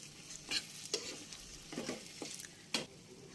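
Potatoes and chickpeas sautéed in spiced oil, a faint sizzle broken by several sharp spoon scrapes and taps against the pan at uneven intervals, close but quiet, with no voices.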